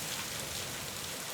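Heavy monsoon rain pours down steadily over flooded fields and a damaged roof. The hiss is constant and broadband, fairly quiet, with no voices over it.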